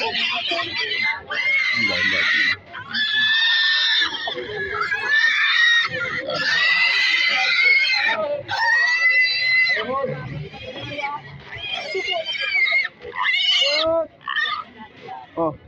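Newly weaned piglets at a pig market squeal and scream almost continuously, loud and close, with shrill overlapping cries and grunts, while people talk in among the noise.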